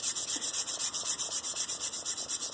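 A wooden spoon is sanded by hand with 320 grit sandpaper, a steady hissing rub in quick back-and-forth strokes, close and even, with no talking.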